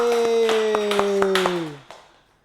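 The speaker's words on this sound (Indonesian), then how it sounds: "tepuk tangan buat Mas Faris" Class in a microteaching lesson on religious education clapping for a student named Faris, a series of distinct hand claps over a voice singing or chanting a falling tone, fading out toward the end.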